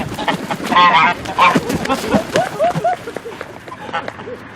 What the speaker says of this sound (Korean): 제가 쫓아가니까 거위들이 놀래가지고 지금 난리 났어요